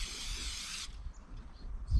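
Cooking spray hisses onto a grill pan in one steady burst lasting under a second, close and fairly loud, followed by quiet kitchen background.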